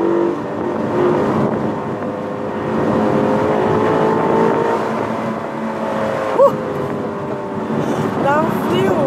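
Car engine humming and rising as the driver floors the accelerator, a sustained loud drone from inside the vehicle that swells in pitch, with voices talking over it.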